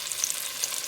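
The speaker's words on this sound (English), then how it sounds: "So as you can see, I am browning this meat." Beef pieces brown in a hot cast iron Dutch oven, giving a brief, steady high-pitched sizzle heard close up with no talking.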